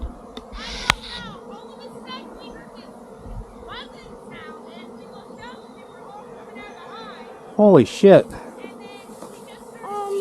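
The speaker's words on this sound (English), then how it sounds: "a swarm of honeybees." A swarm of honeybees on a silvopasture farm makes a steady, droning buzz that fills the air, while people speak and exclaim loudly over it partway through.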